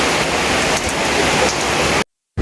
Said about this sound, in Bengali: এবং সকাল থেকে বৃষ্টি।